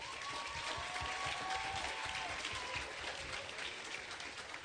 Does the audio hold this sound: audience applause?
yes